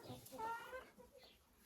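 A Marans hen clucks softly in a farmyard, a few short throaty notes close by and faint.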